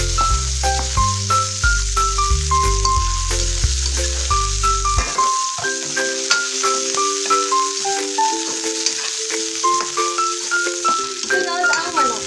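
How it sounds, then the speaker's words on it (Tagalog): Garlic and onion sautéing in hot cooking oil in a pan, a steady broadband sizzle running throughout beneath loud background music. "magigisa na tayo ng bawang at sibuyas"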